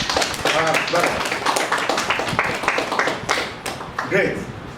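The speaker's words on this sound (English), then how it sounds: "Let's give a clap to brother" An audience at a PhD project defence claps in a burst of sharp, irregular hand claps that fades after a few seconds, with some voices mixed in.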